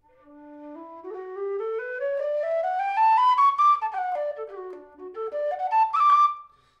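A flute fitted with an Abell low whistle headjoint plays a smooth scale climbing up and back down, then rising again, its tone low, breathy and whistle-like, solo and close.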